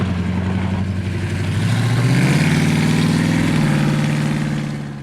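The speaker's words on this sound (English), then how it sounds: "This is a 1966 Dodge Coronet 500 with a 426 Hemi engine." A 1966 Dodge Coronet 500 with a 426 Hemi V8 idles with a deep, lumpy rumble close by, rising slightly midway as the revs lift, then settling as it tapers off.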